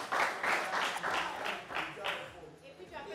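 Brief burst of clapping from a studio audience on a French football talk show, rhythmic claps rising and fading over a few seconds, with voices mixed in.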